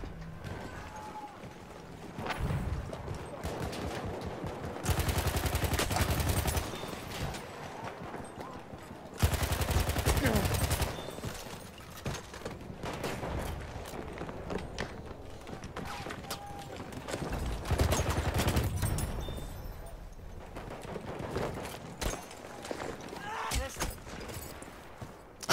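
Gunfire in the video game Battlefield 1 comes as repeated bursts of shots and loud sustained volleys over battlefield noise, with someone talking at times.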